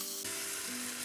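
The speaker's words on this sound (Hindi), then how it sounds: "सभी चिकन को डाल दिए, अब इसको चलाते ही अच्छे से फ्राई करेंगे" Chicken pieces frying in a hot pan for a home-style chicken recipe, a loud, steady sizzle that bursts in abruptly and holds at full strength to the end.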